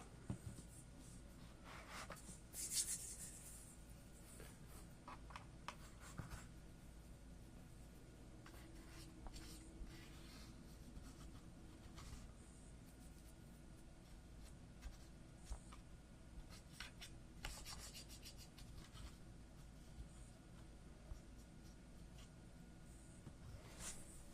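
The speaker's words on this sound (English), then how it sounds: "Certainly go through the Q-tips cleaning a keyboard like this." Q-tips scrub and rub around the keys of a keyboard during detailed cleaning, making soft, close scratching and swishing strokes that come in irregular bursts over a quiet background with no talking.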